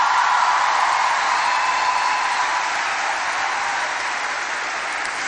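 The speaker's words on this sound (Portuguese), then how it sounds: "agora você está aí aplaudindo" A church congregation applauding, with steady, dense clapping that carries on evenly and loudly throughout with no voices over it.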